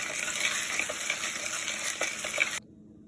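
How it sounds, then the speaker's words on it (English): Lye solution stirred with ice for homemade soap gives a steady fizzing, sloshing hiss with light clinks, close and continuous, then cutting off abruptly near the end. "You want to stir until the ice is melted, and you also want to stir until the lye is not visible much anymore."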